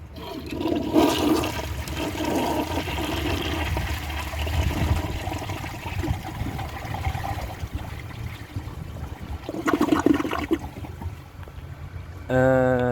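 A 1987 Kilgore toilet flushes during a performance test, a long rushing swirl of water that surges early, churns on for several seconds and swells again near the end before a brief gurgle.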